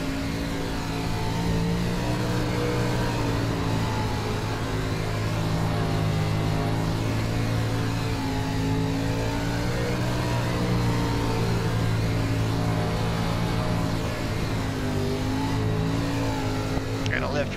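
A 305 sprint car engine drones loudly and continuously on the Eldora dirt oval in iRacing, with steady harmonic tones rising and falling as the throttle is worked and lifted through the corners.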